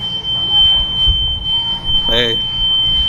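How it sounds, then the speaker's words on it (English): A shrill, continuous high-pitched smoke alarm tone sounds loudly throughout, with muffled voices and background noise beneath it. "Got to set the smoke alarms off."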